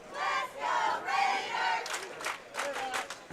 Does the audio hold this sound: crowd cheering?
yes